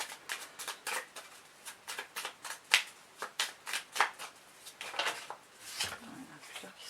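Tarot cards riffled and shuffled by hand in a run of quick, close papery bursts, a few cards slipping and dropping onto a surface near the end.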